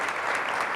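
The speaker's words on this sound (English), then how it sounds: "I'm glad you're applauding." Audience at the 2019 Creative Placemaking Summit applauding, a dense and steady burst of many hands clapping with no gaps.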